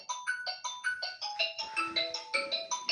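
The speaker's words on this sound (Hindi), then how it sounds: "1 मिनट, फ़ोन आ गया था।" A mobile phone rings with a repeating melodic ringtone, short bright tone bursts cycling steadily for about three seconds with nobody speaking over it.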